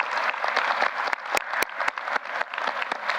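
Alumni and donors standing at a university president's investiture ceremony are greeted with a hearty round of applause, dense continuous clapping from a large crowd with a few sharp louder claps standing out close by.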